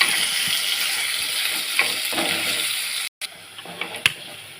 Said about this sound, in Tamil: இதில் வெங்காயம் நல்லா வதங்கணும்.